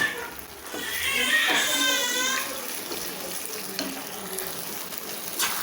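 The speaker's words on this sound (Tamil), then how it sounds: "இன்னும் கூட கொஞ்சம் தண்ணி ஊற்றிக்கலாம், சீக்கிரம் கெட்டி ஆயிரும்." Water pours into a pan of mushroom Manchurian gravy thickened with cornflour, a close, steady splashing trickle that runs for a couple of seconds and then settles.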